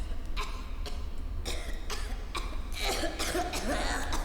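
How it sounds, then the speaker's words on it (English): Repeated coughs, about five broad bursts spread across a few seconds, fairly close and loud over a steady low hum of background ambience, with no talking. "you might want to take something for that cough"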